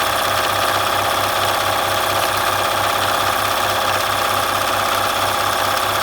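A Bernina 1130 sewing machine stitches fabric with a fast, steady mechanical rhythm of needle strokes over a loud motor whir, continuous and close, with no talking.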